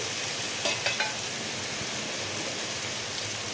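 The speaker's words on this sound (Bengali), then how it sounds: "এবার মশলাটা ভালো করে কষতে লাগবে একটু জল আলুটা কষে দিচ্ছি" Potatoes being sautéed in spice masala with a splash of water, a dense, loud, even sizzle throughout, with a few quick spatula clinks near the start.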